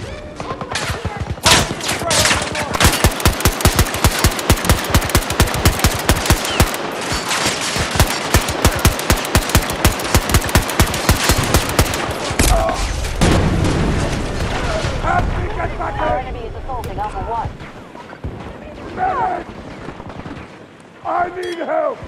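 Rapid automatic gunfire from Battlefield 2042 fills the scene in dense bursts with heavy booms, the bursts thinning out after a while into rumbling explosions and scattered shots, with voices calling out over the combat.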